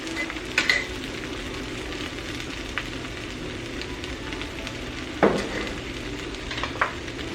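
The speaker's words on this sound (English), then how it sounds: "Scrape the bottom and get any bits off." A spoon stirs and scrapes the bottom of a frying pan of gravy mix, giving a steady low sizzle with a few sharp metallic scrapes standing out close and clear.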